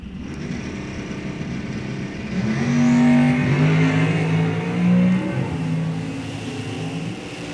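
A Superstock K Automatic 1970 AMX drag car launches wheels up at an NHRA drag strip, its engine roaring loud and close, surging to a peak and holding a sustained, rising howl as it pulls away down the track.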